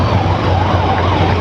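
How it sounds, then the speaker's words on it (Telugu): An ambulance siren wails loudly and continuously through traffic on a ride around Begumpet, its rising and falling tone steady over the low rumble of road noise. "అంబులెన్స్ కన్నా దారి ఇవ్వండి రా"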